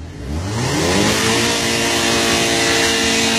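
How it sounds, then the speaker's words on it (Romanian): A car engine revs up hard as the accelerator is pressed, its pitch climbing into a loud, sustained roar heard up close, with no voices. "Ia accelerează un pic. Dai tare. Cu accelerația"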